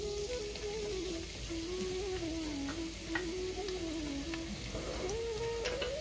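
Chopped onion frying in about a tablespoon of oil, a steady soft sizzle running evenly throughout with no talking, while a faint tonal hum drifts underneath.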